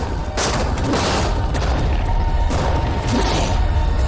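Tanks fire rapidly in a dense, unbroken barrage of booms and mechanical clatter, loud and close throughout with no talking.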